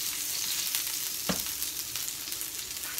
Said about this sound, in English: And get that stirring.